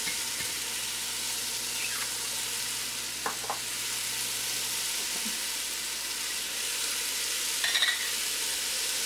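Vegetables sweating down in a pot for a rustic vegetable soup, a steady soft sizzle with a faint hiss throughout and a couple of small clinks from stirring.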